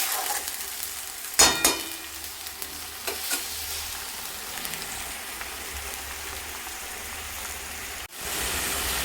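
Chicken sizzles steadily in hot oil as it is sautéed with ground cumin and coriander, a continuous frying hiss broken by a few sharp scrapes and stirring knocks from a utensil against the pan.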